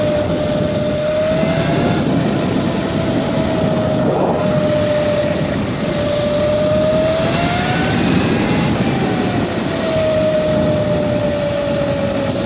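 A modded Razor MX650 electric dirt bike cruises at around 15 mph, its motor whine rising and falling in pitch with speed over a constant rush of wind noise.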